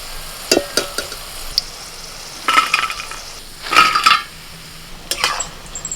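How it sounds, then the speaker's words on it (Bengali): Baby corn half-fries in oil with sharp clatters of a utensil stirring against a pan, in short bursts, close by. "এগুলো এখনো পুরোপুরি ভাজিনি আমি না মানে হাফ ভেজে তুলে নিচ্ছি"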